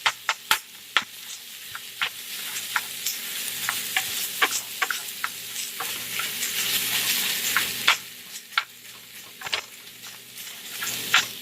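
Crumbled tofu and chorizo are stirred and mixed in a hot pan, giving a steady soft sizzle broken by frequent small scrapes and clicks of the utensil. The sound is close and there are no voices.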